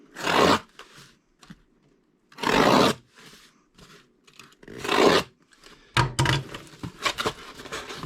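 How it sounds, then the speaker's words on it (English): A knife cutting into a cardboard box, heard as several loud rasping slices in separate bursts with short scraping rustles between, close and without speech. "I'm going to cut these, go in the box, cut about an inch deep"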